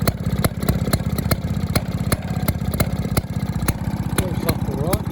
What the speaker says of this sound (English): Bit of a funny, noisy engine, the 2-stroke.